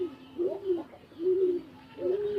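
Pigeons in a rooftop pigeon house coo in soft, rolling phrases, three low throaty bursts spaced across a couple of seconds, close and moderately loud against a quiet background.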